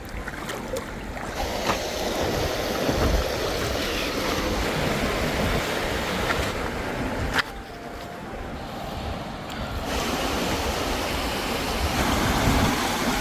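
Rushing, splashing water fills the whole stretch, steady and close, with sloshing surges as someone moves through a flowing river.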